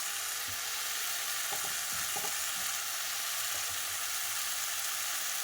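Vegetables fry in hot oil with spices, giving a strong, steady sizzle broken by a few soft clunks of stirring close to the pan.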